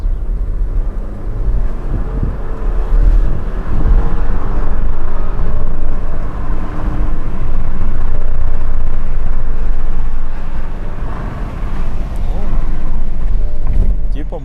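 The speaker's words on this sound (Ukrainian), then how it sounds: "перевів коробку в спорт, натискаємо газ в пол" A BMW X1 F48 with about 500,000 km on it accelerates at full throttle in sport mode. A loud, continuous low engine and road drone fills the cabin and holds steady, with slight swells as it pulls.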